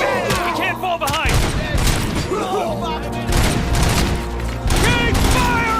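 Sustained gunfire fills a firefight in the Robocop Rogue City video game, with dense rapid shots and bursts layered over constant loud battle noise while voices shout over the top.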